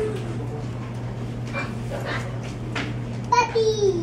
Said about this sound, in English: Can you tell the difference between the barks?